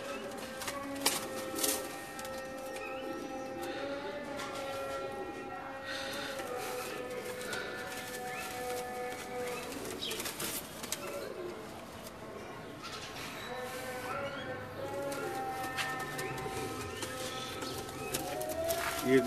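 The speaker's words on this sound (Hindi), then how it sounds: "ये बड़ा 35 वाला कबूतर है।" Pigeons coo softly in a home loft kept by a breeder, repeated low throaty calls close by over a steady background, with someone speaking at times.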